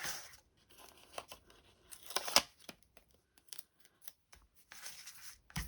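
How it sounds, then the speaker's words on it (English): Scissors snip through card while a Navajo frame card is being made, a series of short crisp cuts with light paper rustling in between, close and quiet in an otherwise hushed room. "I'm just going to cut that because I don't want as much."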